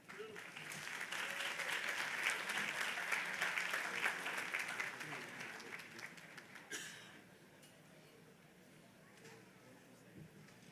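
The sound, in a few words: audience applause at commencement ceremony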